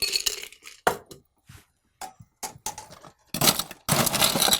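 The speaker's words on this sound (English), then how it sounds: "Going to strain it back into the little one. Just get it off the ice" Cocktail strained off ice into a small tin, with clinks and rattles of ice against metal, a series of short sharp knocks, then a longer pour-like rush near the end.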